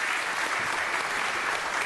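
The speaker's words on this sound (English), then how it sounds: "give our newest member a round of applause," A council chamber crowd applauds newly seated member Nury Martinez, a brief, even burst of many hands clapping together without pause.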